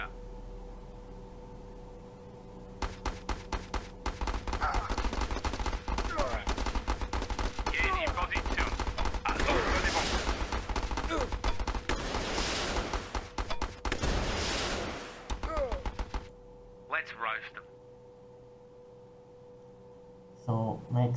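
Heavy machine gun fire in Battle Islands Commanders, long sustained automatic bursts of rapid shots with steady game noise under them, breaking off into a few short final bursts before quiet.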